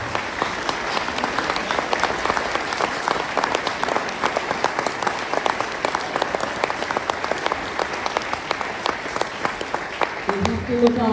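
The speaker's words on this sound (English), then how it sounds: "Could you turn to your music teachers and leaders and give them a huge round of applause?" An audience gives a big round of applause for music teachers and leaders at a school music event, dense sustained clapping filling the room loudly and evenly throughout.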